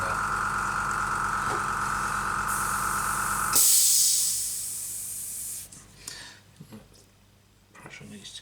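Airbrush spray gun hissing steadily while painting a Messerschmitt Me 109 scale model, a broad loud hiss with a low hum beneath, cutting off partway through, then quieter handling noises follow.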